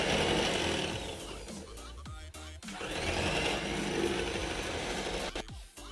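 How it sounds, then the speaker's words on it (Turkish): Electric hand mixer running at low speed while mixing a Turkish Malaga banana cake batter with starch and cocoa, a steady close whirring drone with a brief dip midway and no talking. "Şimdi mikserim önce düşük devriyle"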